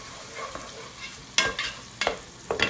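Butter sizzles in a hot pan set on high, a steady close frying hiss broken by a few louder crackling bursts, heard alone without talking.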